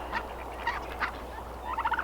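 Juvenile turkeys in a garden give several short, warbling gobbles in quick bursts, with the last cluster the loudest, over a low steady background hum.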